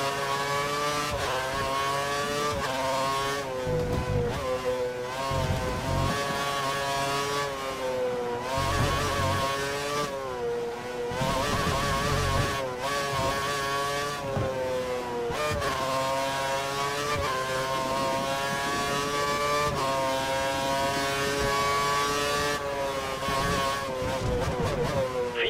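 A Formula 1 car in the racing game F1 2013 screams through its gears, the high-pitched engine rising and falling with each upshift and brief lift, loud and continuous throughout.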